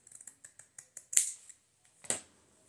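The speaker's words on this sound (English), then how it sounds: "I'm just going to cut the corner off here." Scissors cut the corner off a piece of fabric at close range: a quick series of soft, light snips, then two sharper, louder crisp cuts. The sound is quiet and has no talk.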